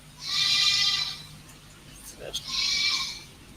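Two drawn-out goat bleats, one near the start and one near the end, separated by a short quiet gap with a couple of small clicks and faint background hum.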